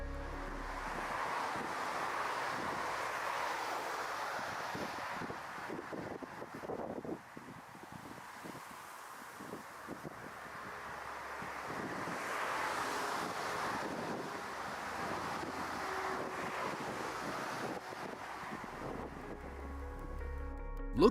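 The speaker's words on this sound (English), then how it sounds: "powerful crosswinds brought on by Cyclone Xavier smashed into the plane" Strong crosswinds from Cyclone Xavier buffet a landing passenger aircraft, a sustained roaring gust that swells and eases across the recording with no voices.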